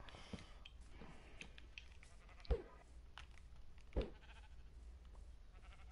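A sheep bleating in a video game, faint and distant with two short bleats standing out over a quiet background, no talking.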